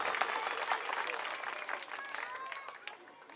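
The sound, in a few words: crowd applause at political rally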